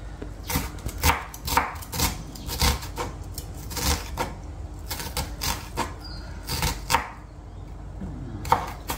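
Ingredients for seekh kebab chopped on a board, a close, irregular series of sharp knife strikes in quick clusters with short pauses between.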